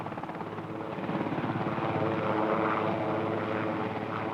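A helicopter flying over Greenland, its rotor chop a steady, continuous throb that swells slightly as it comes nearer, with no voices.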